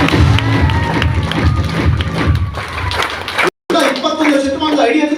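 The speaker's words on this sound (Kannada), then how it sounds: "ನಂಗೆ ಚಪ್ಪಾಳೆ ಕೊಟ್ಬಿಟ್ರೆ ಒಂದು ಖುಷಿ ಆಗ್ತದೆ" A live audience at a Milifestyle business talk in Kannada bursts into loud, sustained clapping and cheering, a dense wash of crowd noise with voices mixed in, briefly cut off near the end.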